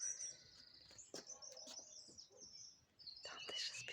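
Several songbirds chirp and trill in bright, clear phrases, with short tweets and longer warbling runs spread across the few seconds, fairly close and prominent over a quiet background.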